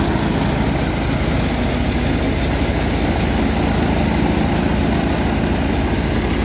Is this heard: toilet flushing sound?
no